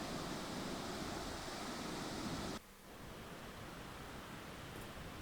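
Wielka Siklawa waterfall on a mountain trail, a steady broadband rush of falling water that drops abruptly to a softer, more distant roar partway through, as if the listening position shifts.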